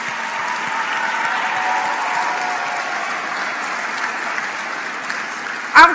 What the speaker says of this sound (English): Let's have a nice round of applause for all of our competition sponsors and hosts.